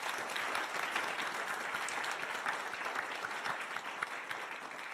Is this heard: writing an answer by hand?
no